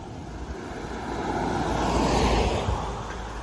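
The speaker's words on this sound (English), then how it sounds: "I forgot my microphone today and it is very windy" Strong roadside wind buffets an open microphone beside a big hedge, a steady broadband rush that swells in the middle and eases off, with no talking.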